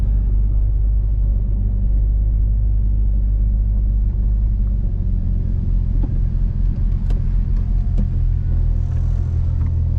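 Nissan 350Z engine held in second gear around the Curborough sprint figure-8 circuit, a loud steady in-car drone and rumble with engine note shifting partway through, some faint clicks and no talk.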